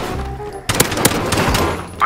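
Gunfire in Call of Duty Warzone: after a quieter stretch, a loud burst of rapid shots and booms fills the rest of the moment, with dense repeated cracks.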